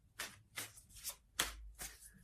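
A deck of tarot cards is shuffled by hand in soft, quiet bursts, about five brisk riffling swishes in quick succession.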